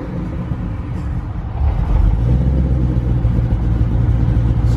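A Ford Mustang GT500 engine rumbles nearby, building into a louder, deeper rev partway through and holding there, with no speech over it.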